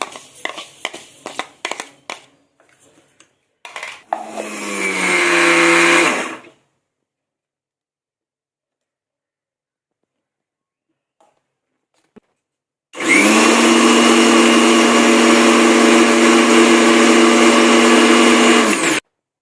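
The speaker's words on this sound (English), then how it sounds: "Now let's grind the sesame." Black sesame seeds are ground in an electric grinder in a home kitchen: a short loud whirring burst, a long pause of near silence, then a sustained steady motor roar for several seconds, close and loud.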